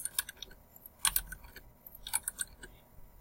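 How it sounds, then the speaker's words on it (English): Answers are typed on a computer keyboard in short irregular clusters of key clicks separated by brief pauses, close and fairly quiet. "type in your answers"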